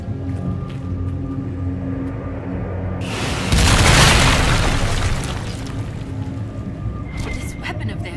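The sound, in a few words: weapon blasting through a barrier, Dragon Age Inquisition video game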